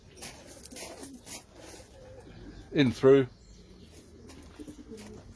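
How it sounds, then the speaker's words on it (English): Racing pigeons cooing in a loft, a couple of deep, throaty coos close by in the middle, with someone talking quietly and faint chirps and rustling around them. "The hatch is then opened, the birds are let in."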